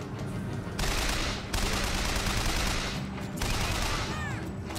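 Automatic gunfire in Bioshock Infinite, sustained rapid bursts that are loud and near, broken by short pauses, with other game effects underneath.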